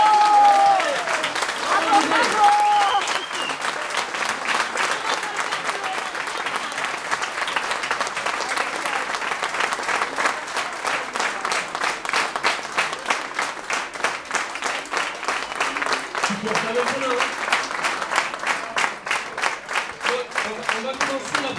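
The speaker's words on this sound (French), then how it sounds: "je voudrais que tous ensemble, on applaudisse très fort" An audience at a retirement party claps steadily for a long stretch, with a few voices at the start and settling into rhythmic, synchronized clapping that continues loudly to the end.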